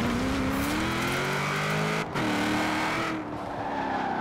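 A car engine in the racing game Forza Horizon 4, heard up close and loud as a steady droning hum with rising pitch. It cuts out briefly around midway and then resumes at a lower pitch.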